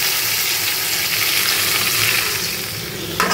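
Boiled taro drops into hot oil with chopped garlic, dried chili and cumin, setting off a loud, steady, hissing sizzle that fills the space and continues unbroken throughout.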